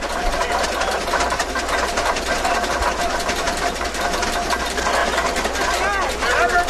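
An old tractor, the E, idles in the background during a 50-bottom plowing event at Rollag, giving a steady, rapid mechanical chugging and ticking throughout, with voices over it.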